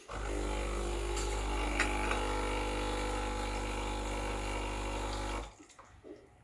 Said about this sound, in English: I'm gonna add a bit of hot water. There's also a hot water tap